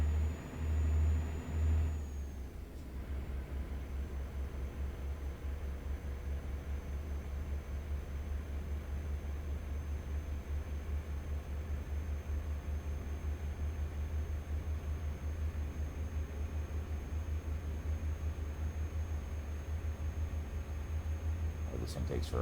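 In American Truck Simulator, a truck engine accelerates slowly, a steady low rumbling drone with a faint rising tonal whine that runs on for over twenty seconds after a brief hiss near the start.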